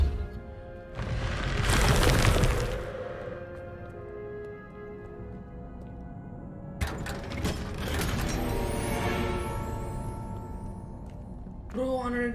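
Depulso force spell cast in Hogwarts Legacy, a whooshing burst early on, then a second loud magical impact with ringing mechanical rattles, and a brief tonal effect at the end.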